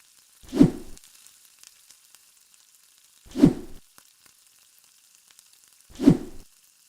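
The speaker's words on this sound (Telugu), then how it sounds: "ఆ స్పైసెస్ అన్నీ కూడా ఫ్రై అయ్యాక మ్యారినేట్ చేసుకున్న చికెన్ వేయాలి" Marinated chicken dropped into hot oil with fried whole spices and shahjeera for Hyderabadi chicken dum biryani; three loud, close sizzling bursts spaced about three seconds apart, each fading quickly into near silence.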